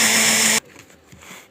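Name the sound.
blender mixing cake batter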